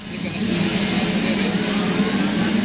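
85cc racing motorcycle engines rev hard during the final of a motor race at the Higalaay Festival in Cagayan de Oro City, a loud, continuous mid-pitched engine drone that holds steady throughout.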